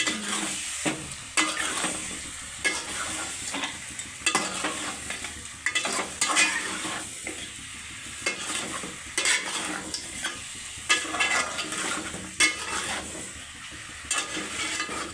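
Raw cumin seeds frying in a pan while being stirred, a busy close sizzle with repeated scraping stirs and light clatters, uneven in loudness throughout.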